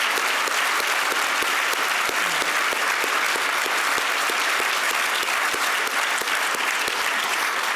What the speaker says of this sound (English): Will you join me in one last round of applause for our distinguished Alumni Award winners?